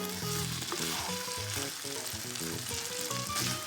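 Kimchi fried rice seasoned with soy sauce sizzles in a hot pan, a loud continuous close crackle with occasional stirring scrapes throughout, and nobody speaks.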